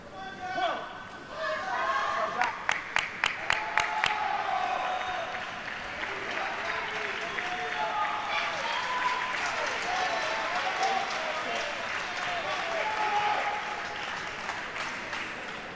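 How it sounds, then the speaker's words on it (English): A home crowd applauds at a para table tennis championship, with a burst of clapping and a few sharp claps rising early, then sustained cheering and crowd noise under commentary. "Home crowd here giving him loads of support."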